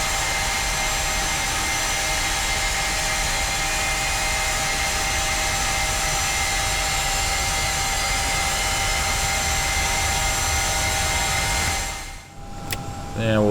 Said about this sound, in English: we'll have a listen to the engine starts on the outside of the aircraft